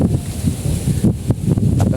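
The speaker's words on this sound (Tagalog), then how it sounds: "Lakas ng hangin" Strong wind buffets the microphone in loud, gusty rumbles with irregular bursts, no voices heard.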